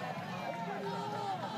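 A mixed crowd of Knight and Sooner fans murmurs at a college softball game, with steady stadium babble under an announcer's talk.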